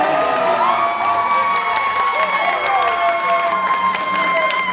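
Students in a university amphitheatre in Yaoundé applaud and cheer, a dense steady wash of clapping and shouting voices from a large crowd filling the whole stretch.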